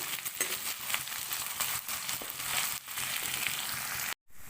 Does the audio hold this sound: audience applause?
no